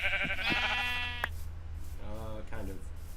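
Sheep bleating in the Minecraft mod Better Than Wolves, several close, distinct bleats, a long wavering one at the start and two shorter ones near the end, with a voice briefly heard.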